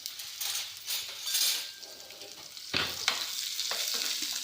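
Onion sautéed in a pan until browned, with a pinch of asafoetida about to go in: close sizzling broken by spoon-on-pan scrapes and light metallic clinks, louder near the end.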